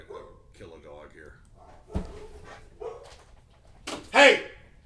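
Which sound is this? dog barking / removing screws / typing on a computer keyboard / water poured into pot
dog barking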